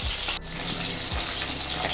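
Fish, a kilo of it, frying crisp in hot oil with a steady, close sizzle and bubbling throughout, a few low thumps as pieces shift in the pan.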